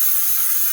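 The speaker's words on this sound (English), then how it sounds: "Do a little bit of spray at this point." Hairspray hisses from an aerosol can onto curtain bangs in one steady, close, continuous burst with no talking.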